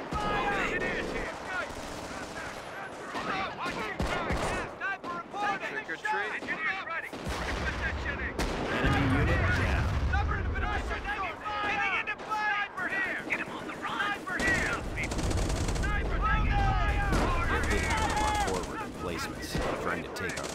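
Battlefield gunfire and artillery from a Company of Heroes 2v2 match at Bizory, steady rattling shots and heavy booms under soldiers' radio chatter.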